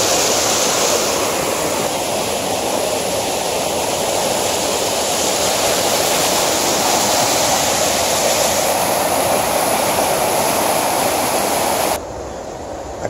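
A waterfall that people queue up to jump from gives a steady, dense roar of rushing water, loud and close, abruptly dropping to a quieter hiss near the end.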